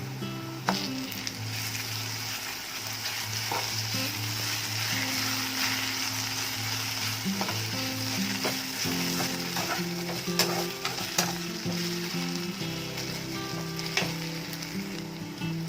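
Green chilli and ginger garlic paste fry in a pan of oil for Andhra-style fish pulusu. A steady, close sizzle runs throughout, with occasional stirring clicks and scrapes.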